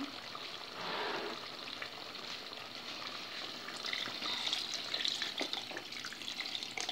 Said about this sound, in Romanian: Acum o să adăugăm și apa.